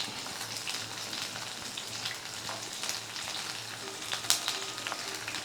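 Onions sauté in a hot pan for Gobi Manchurian, giving a steady, moderately loud sizzle with scattered pops and crackles, close and without talk.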